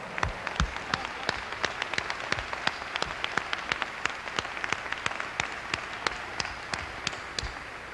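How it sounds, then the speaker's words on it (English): A small audience gives sparse, distinct claps in an uneven rhythm, each hand strike sharp and separate rather than blending into a roar. "Let us stand and give her a warm round of applause."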